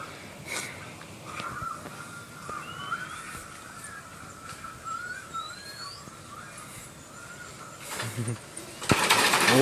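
Large wild birds calling on Koh Samui, several short rising whistled calls scattered over a quiet outdoor background, with a sharp burst of noise near the end.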